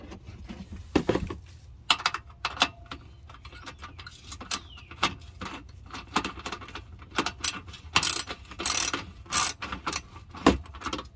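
A ratchet wrench works an oil pan bolt loose on a 2012 Dodge Charger R/T V8 during an oil change: rapid close ratcheting clicks in bursts with clanks and handling noises between.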